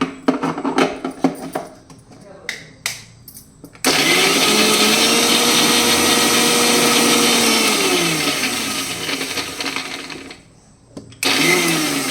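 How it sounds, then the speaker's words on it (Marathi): A few clicks and knocks open, then a mixer grinder grinding green chillies and garlic roars loudly and steadily for about six seconds, stops briefly, and starts up again. "हिरवी मिरची आणि लसूण मिक्सरला बारीक वाटून घेते"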